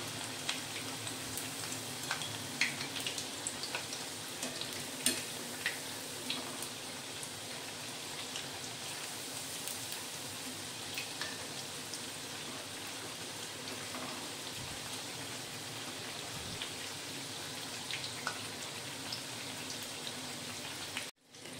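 Chakli frying in hot oil, a continuous crackling sizzle with scattered pops, steady and close throughout before cutting off at the end.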